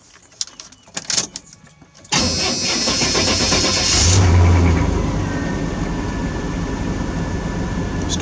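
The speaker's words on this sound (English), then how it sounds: "It's time to do a truck cold start" Cold start of a GMC truck with 192,000 miles: a few clicks and clunks, then the starter catches and the engine bursts loudly to life, revving up briefly before settling into a steady, close idle.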